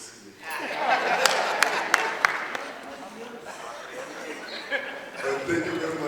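Scattered audience applause at a meeting with a government minister, a few sharp claps standing out over a murmuring room, fading into a thinner crowd wash with some chatter and light laughter.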